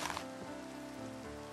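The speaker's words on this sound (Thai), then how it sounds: "ฝนตกธรรมดาธรรมดา" Rain falls in the Minecraft video game as a faint, steady hiss of drops, running continuously beneath sustained tonal sounds.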